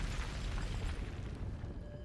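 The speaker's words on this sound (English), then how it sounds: "I'm always not sure if you can hear the explosion." A deep, rumbling explosion from the video game GF: Neural Cloud, a heavy low boom whose roar fills the whole moment and slowly thins out toward the end, with no voices over it.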